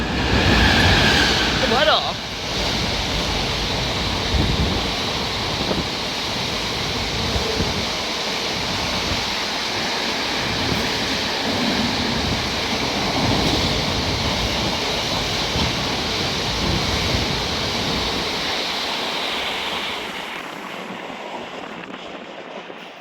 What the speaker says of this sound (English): if this freight train's flying through, right here, Freightliner